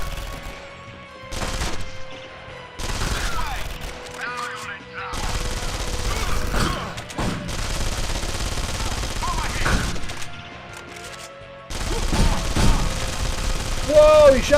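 Gunfire in the 2003 PC shooter Contract J.A.C.K. comes in repeated loud bursts and rapid volleys separated by short pauses, with game voices and effects in between.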